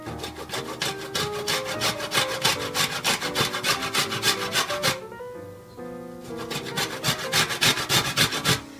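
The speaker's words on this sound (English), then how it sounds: "back to the Weight Watchers grater" Weight Watchers grater scraping citrus peel, heard as rapid rhythmic rasping strokes, close and continuous, with a short pause midway before the grating resumes.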